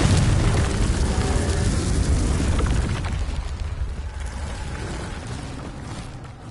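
A Confringo spell in Hogwarts Legacy detonates in a heavy, roaring explosion that rumbles loudly, then slowly fades over several seconds.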